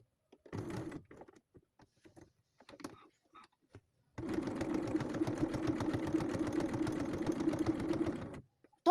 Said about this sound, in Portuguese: Fiz a costura de segurança.